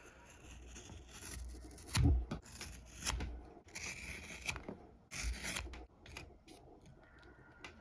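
Knife blade slicing through 10-ounce veg tan leather, a series of close, scraping rasps and short cutting strokes with uneven pauses, fairly quiet and without talk.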